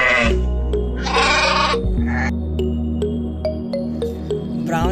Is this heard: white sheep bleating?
yes